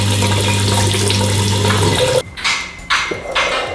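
Water from a shower or tap runs loudly and continuously while hair is rinsed. Near the end the flow breaks into splashy, uneven gushes as it is interrupted by the hair and hands.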